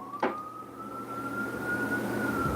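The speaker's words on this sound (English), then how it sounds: "Sirens." A siren wails with a steady high tone that slowly rises in pitch, after a brief knock right at the start.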